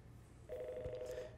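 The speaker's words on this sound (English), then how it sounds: "I'm going to simulate a call coming in right now" An ESI office phone system rings with a simulated incoming call: after a faint hum, a single electronic tone starts partway through and holds steady to the end, close and clear.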